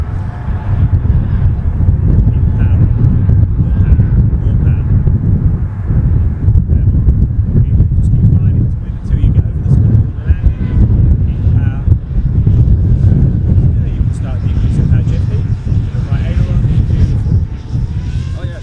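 A strong wind of around 30 mph at an RC plane flying field buffets the microphone with loud, steady low roaring and gusting throughout, while voices talk underneath.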